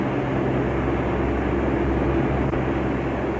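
Steady, dense droning roar of a bomber squadron's aircraft engines in a 1941 film, a continuous low rumble holding at an even level throughout with no voices.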